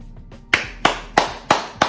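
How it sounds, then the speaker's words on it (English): Five sharp, evenly spaced claps ring out close by, like one person slowly clapping a short round of applause on their own. "we need to just give him a round of applause for 1 second"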